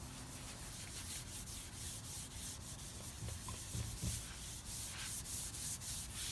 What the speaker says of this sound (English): I'm going to rub that wax really well into the grain.